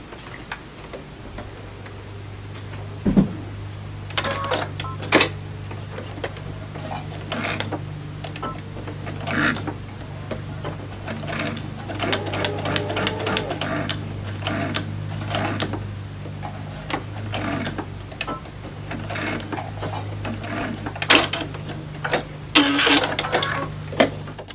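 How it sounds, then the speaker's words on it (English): A sewing machine stitches quilt fabric along a paper template line, its needle ticking in a steady, fast mechanical rhythm over a low motor hum for about 25 seconds, with no talking. "here's the line I just stitched right under the number 2"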